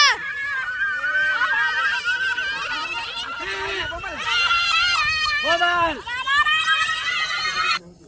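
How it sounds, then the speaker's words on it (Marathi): Children shouting and screaming excitedly together around a lit Holi bonfire, loud and continuous, with bursts of high-pitched yelling and laughter. "आता ही बघा होळी पेटवली तर पोरं कशी बोंबला लागली बघा"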